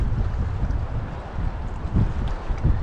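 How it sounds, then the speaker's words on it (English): Strong wind gusts buffet the microphone at a park on a chilly day, a loud low rumbling roar that rises and falls in surges, with no voices. "It's way too windy and a little too frigid for my taste."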